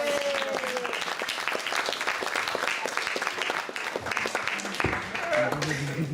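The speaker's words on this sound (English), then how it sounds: "Give him a round of applause." Steady audience applause at a live stage magic show, loud clapping continuing throughout with brief voices rising under it toward the end.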